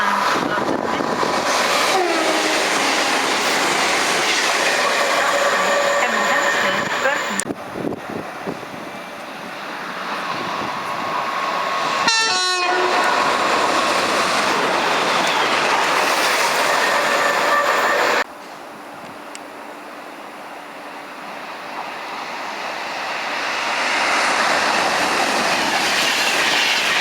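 A London Midland passenger train rumbles past at Watford Junction station, loud and close, with rhythmic clickety-clack over rail joints, a brief high wheel squeal midway, then a drop in level as it clears before another rushing swell.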